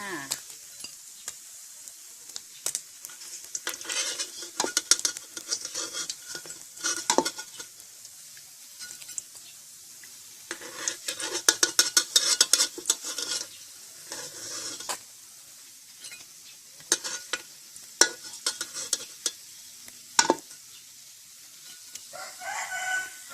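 Fish frying in a pan for salted fish, a soft sizzle with intermittent scrapes and clatters of utensils, and a rooster crowing in the background.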